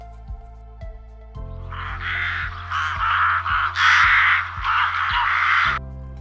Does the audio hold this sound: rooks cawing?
yes